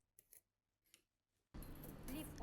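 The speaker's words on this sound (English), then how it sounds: "Now I'm going to cut the front of the skirt." Scissors slice through skirt fabric in a steady, close rasping cut that starts abruptly and runs loud, after a few faint earlier snips.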